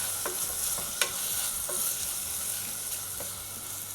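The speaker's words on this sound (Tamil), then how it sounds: "அதை வந்து கொஞ்சம் நல்லா வதக்கிடலாம். காய் வந்து ஒரு 2 நிமிஷம் நல்லா வதங்கட்டும்." Mixed vegetables and peas sauté in a pan for mint rice, a continuous soft sizzle with a few sharp spoon clinks and scrapes as they are stirred, close and alone.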